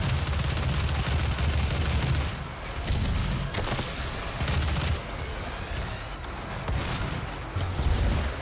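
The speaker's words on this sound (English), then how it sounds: "Here, have a grenade." Grenade blasts and rapid gunfire crash through a Doom (2016) firefight, bursts of heavy booms and machine-gun rattle stacked over a dense roaring battle bed, loud and close.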